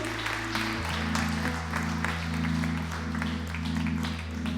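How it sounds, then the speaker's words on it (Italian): A church congregation claps in a steady patter of applause over a sustained low musical drone. "Possiamo applaudire il Signore"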